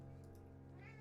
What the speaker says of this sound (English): Excuse the cat talking in the background.